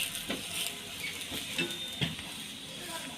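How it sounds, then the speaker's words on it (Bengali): A spinach paratha fries in oil in a pan with a steady sizzle, and spatula scrapes and light taps on the pan come at irregular moments. "আরেক পাশটা পাল্টে এই পাশটাও আরেকটু তেল দিয়ে দেব।"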